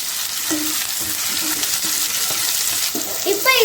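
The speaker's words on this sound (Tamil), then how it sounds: "ஆயில் வந்து இப்போ சூடாயிடுச்சு இதில் நம்ம வெங்காயத்தை சேர்த்துக்கலாம் வெங்காயத்தோட பச்சை வாசனை போகிற வரைக்கும் நம்ம இதை நல்லா வதக்கிக்கலாம்" Onions sautéing in hot oil in a pan give a loud continuous sizzle with scattered spatula scrapes and light clinks, close up and steady throughout.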